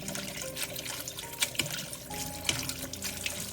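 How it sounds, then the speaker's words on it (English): Cold running water from a tap splashes and trickles over udon noodles in a sink, with small bursts of splatter, close and continuous. "drain them, rinse them under cold water and drain well."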